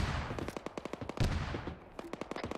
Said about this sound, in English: That's enemy also cannon fire, yes